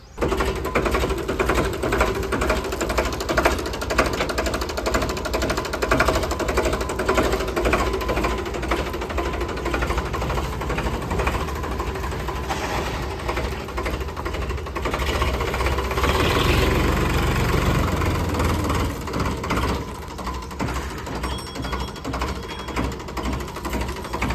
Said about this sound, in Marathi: तर आता निघालेलो आहे ट्रॅक्टर घेऊन